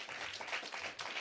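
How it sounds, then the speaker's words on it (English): Audience applause at a live political event, broad steady clapping filling the short stretch with a few cheers mixed in, loud and continuous throughout. "Massive round of applause for Clive Lewis"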